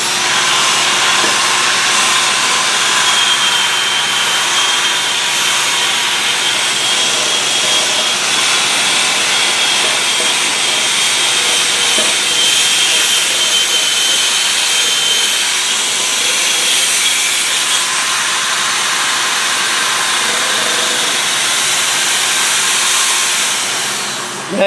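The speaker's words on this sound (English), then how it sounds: "start with the electric drill, and this is a lightweight, and we've installed one of the wired wheels from our collection" Lightweight electric drill fitted with a wire wheel scrubbing an alloy wheel during rough cleanup, a loud, steady high-pitched whir and grinding hiss that runs continuously without pause.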